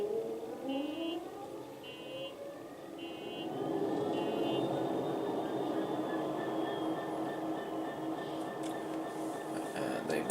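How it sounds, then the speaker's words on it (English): Heavy train engines in a video game rumble up and build into a loud, steady drone, with brief tonal beeps and a rising whine early on. "So, next thing I need to do is start the engines."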